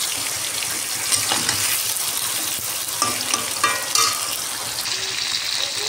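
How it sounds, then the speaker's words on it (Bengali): Pointed gourd frying and being stirred in a pan, a steady hiss of hot oil with scraping spoon strokes and small metallic clinks near the end; no one speaks. "এটা দিয়ে আমি ভালো করে একটু ভেজে নিই"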